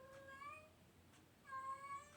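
A cat meows outdoors, two drawn-out, wavering meows with a short gap between them, faint and somewhat distant against a quiet background.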